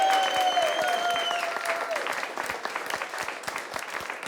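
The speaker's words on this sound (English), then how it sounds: "Round of applause for Raina and Abby." An audience applauds a newly engaged couple at a comedy show, dense clapping with a few whistles or cheers at the start, thinning into scattered distinct claps.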